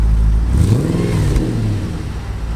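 An Audi RS4 V8 starting up, giving a loud, close, deep burbling rumble with a rising rev flare in the first second before settling into a low, rough idle.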